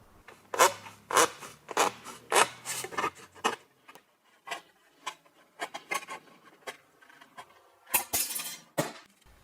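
Metal being trimmed along a scribed mark, a series of rasping, cutting strokes in uneven bursts, loud and close, with pauses between the passes and a few harsh scrapes at the end.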